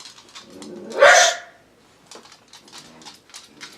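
A Basenji dog lets out one sharp, loud yelp-like bark up close, with faint rustling and small sounds around it.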